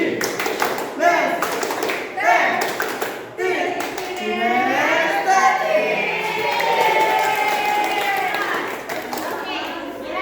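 A group of Indonesian schoolchildren performs a tepuk, a rhythmic clapping chant, with bursts of clapping, chanted voices and cheering in a lively classroom crowd.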